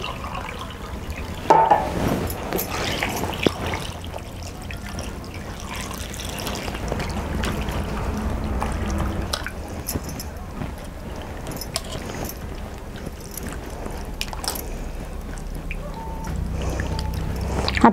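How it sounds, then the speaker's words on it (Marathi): Chicken pieces are washed in water in a kitchen, with faint sloshing, trickling and splashing, and a few light clinks from handling, running softly throughout. "आता आपण पाणी घेऊया आणि चिकन स्वच्छ धुवून घेऊया."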